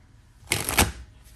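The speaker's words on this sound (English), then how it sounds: "Let's attempt to do a riffle shuffle" A tarot deck is riffle shuffled once, a quick close burst of fluttering card clicks lasting about half a second, alone against quiet.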